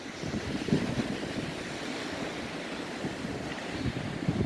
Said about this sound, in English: a fair few waves coming through this morning